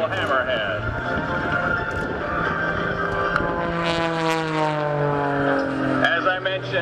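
An aerobatic propeller airplane engine drones steadily through a double hammerhead manoeuvre, its pitch sweeping and shifting as the plane climbs and pivots, under continuous commentary from someone talking.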